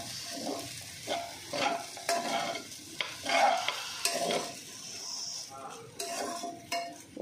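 Chicken fried rice with curry leaves and lemon juice is stirred in a pan, with repeated scraping strokes and soft clinks of a spatula over a light sizzle, arriving in uneven bursts close by and without talk.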